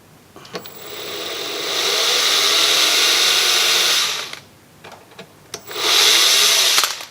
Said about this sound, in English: And then I just drill a hole right here.